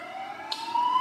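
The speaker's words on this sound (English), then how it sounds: "sorry about the sirens in the background" Emergency vehicle sirens wail steadily in the background, a sustained tone that rises slightly in pitch near the end, with a brief whoosh of passing traffic and no speech.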